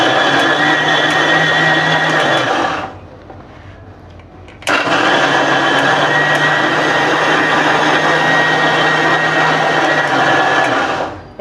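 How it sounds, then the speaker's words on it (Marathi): A kitchen mixer grinder blends thandai ingredients with water in a loud, close, whirring motor drone. It cuts out for about two seconds, then runs again at full power before stopping. "मिक्सरच्या भांड्यात मी पाणी घातलेलं, तो पाणी टाकून आता मी थोडं अजून पाणी घालून वाटून घेते"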